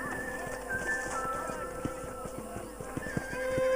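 In Red Dead Redemption on PS3, a horse whinnies while its hooves clip-clop in a rapid, close rhythm along a ranch path, with light ambient birdsong behind.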